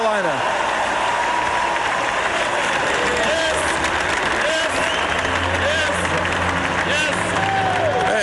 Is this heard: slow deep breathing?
no